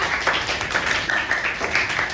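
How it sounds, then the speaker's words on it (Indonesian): Classroom applause for a student group during a chemistry lesson, a brief burst of many hands clapping at a moderate distance, steady and continuous across the short span. "Kita beri tepuk tangan untuk kelompok 4."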